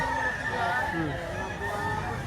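Roosters crow and cluck at a busy chicken market in Batangas, their calls layered over one another and mixed with a crowd's babble and nearby voices.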